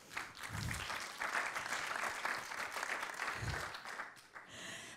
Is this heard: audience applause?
yes